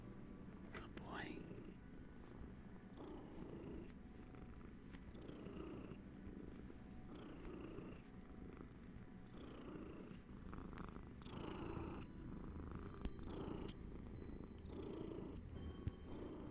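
A pet cat named Kenshin purrs up close in a steady rumbling rhythm, partly masked by soft speech and game music running over it.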